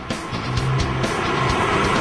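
A Porsche Boxster with its top down drives fast on a highway at high speed, its engine drone mixed with heavy wind and road roar, loud and continuous throughout.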